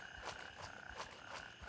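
Chorus of frogs croaking at sunrise in the video game Gray Zone Warfare, a steady pulsing ambience of repeated croaks at moderate distance with no talk.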